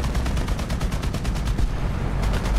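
Rapid automatic gunfire from aircraft in the War Thunder video game rattles in a steady, regular burst of closely spaced shots, loud and continuous, with no talk over it.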